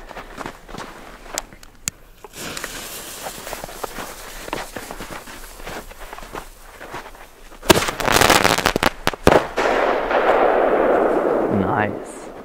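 A firework with a crackling effect is set off outdoors: scattered footsteps and small pops, then a sudden loud burst followed by a dense, sustained crackle of many tiny snaps lasting several seconds.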